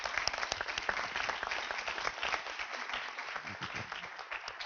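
An audience claps in thanks at a talk, a dense run of many hands with a lively, uneven texture that continues throughout.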